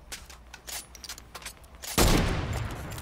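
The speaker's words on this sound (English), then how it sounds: "I sniped him in the head" Gunfire in a battle royale style video game: a burst of rapid shots early on, then one loud, sharp report that rings on with a long decaying tail. No voices.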